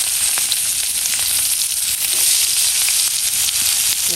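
Potatoes and chopped onion fry in hot oil in a home kitchen, giving a loud, steady, close-up sizzle with faint crackles and stirring noises throughout, without any talk.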